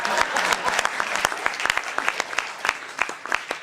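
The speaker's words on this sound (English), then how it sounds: "yes, that's right, you should clap now." An audience claps steadily, a dense patter of many hands applauding throughout, fairly close and sustained.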